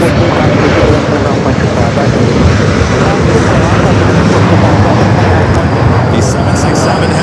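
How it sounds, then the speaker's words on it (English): Delta Boeing 767-300ER jet taking off at LAX, a loud steady broadband engine roar filling the whole stretch with constant rumble, under occasional voices. "a Delta 767 at 300ER also heading up here for north side at takeoff"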